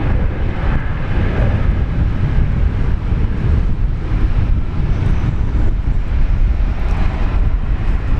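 Air New Zealand Airbus A321neo arriving at Brisbane Airport, a broad steady roar with heavy wind buffeting on the microphone, loud and continuous throughout with no voices.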